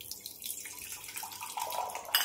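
Water pours into a pan of amti, a gurgling liquid stream heard up close and alone, growing a little louder near the end.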